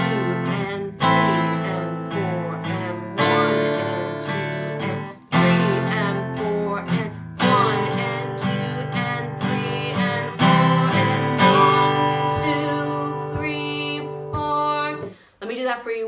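An acoustic guitar strums the chorus chords of a song in steady eighth-note rhythm, loud and close, with chord changes and brief pauses before a held final strum.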